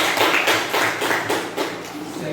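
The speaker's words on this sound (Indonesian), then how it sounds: "Kita berikan tepuk tangan untuk kelompok" Classroom group applause for a student team, a short burst of rhythmic hand claps from a small group, fairly close and loud.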